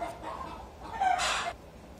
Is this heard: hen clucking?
yes